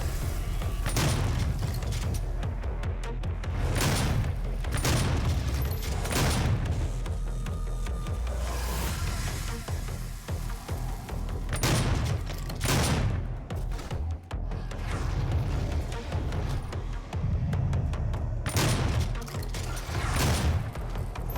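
Shotgun blasts in a video game ring out at irregular intervals, about seven loud booming shots with short decays over a constant dense backdrop of game noise and rumble.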